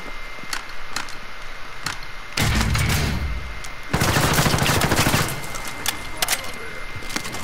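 Gunfire in a multiplayer video game: scattered sharp shots crack out, then two dense bursts of rapid fire rip through the middle, loud and close, followed by further isolated shots.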